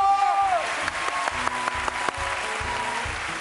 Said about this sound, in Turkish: Kocaman alkış! Bravo!